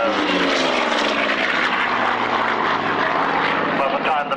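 A Bearcat single-seat Navy fighter flies at an airshow at Old Warden, its propeller engine producing a loud, steady droning roar close by, with a commentator talking over it.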